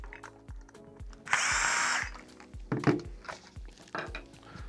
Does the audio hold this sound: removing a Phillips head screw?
yes